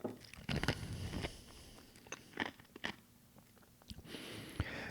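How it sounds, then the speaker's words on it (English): Ice crunched between the teeth while drinking a home-brewed cold brew coffee, a run of close, sharp bites and chewing crackles spread unevenly through a quiet room. "I just realized I'm crunching ice in your ear."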